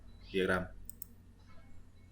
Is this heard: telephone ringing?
no